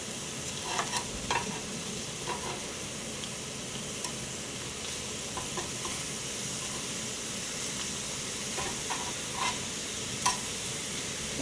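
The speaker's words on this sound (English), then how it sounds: "flip over the steak" Pepper-crusted steak au poivre sizzling in a pan just after being flipped, a steady hissing fry with occasional faint ticks and pops, close and without talk.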